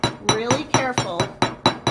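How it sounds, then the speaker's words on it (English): Hammer tapping a rivet on a metal blank set on a leather cuff, eight sharp metallic strikes in a steady even rhythm, close and ringing briefly after each blow. "Really careful just to hit the rivet"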